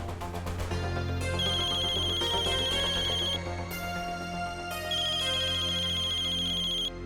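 A telephone ringtone plays steadily and loudly, a repeating electronic melody with bright high tones, running continuously with no voices.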